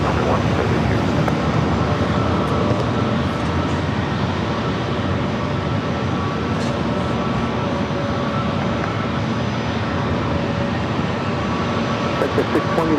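A Delta airliner takes off from San Diego airport, its engines producing a loud, continuous broadband roar that holds steady throughout, with radio voices talking over it.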